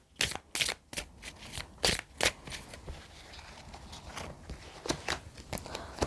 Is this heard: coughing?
no